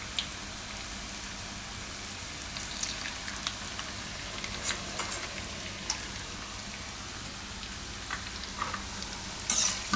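Moong and puffed rice (mamra) bhajiya fritters frying in hot oil over a lowered flame, a steady close crackling sizzle with scattered pops and occasional louder bursts near the end, no talking.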